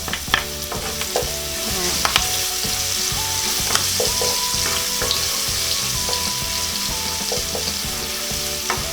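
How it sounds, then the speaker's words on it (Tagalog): Garlic sautéing in hot oil in a pan for ginisang beans with pork, a steady crackling sizzle with stirring scrapes running close and loud throughout, a brief spoken word at the start. "Ngayon, pwede ko na unang igisa tong ating bawang."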